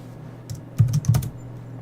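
A few quick keystrokes on a computer keyboard, a short cluster of close, crisp clicks in a quiet room, as a line of text is copied.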